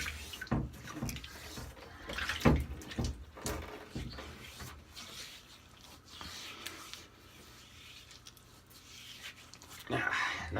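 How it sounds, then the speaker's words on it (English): Hot water runs steadily from a bathroom tap while wetting the face before a straight-razor shave, a continuous hiss broken by splashes and clunks, with talking over parts of it. "We got some pretty hot water going."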